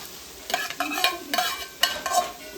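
Chopped tomato goes into onions browning in a pan over a wood-fired stove for a mutton dish, stirred with repeated scraping strokes over a steady, close sizzle.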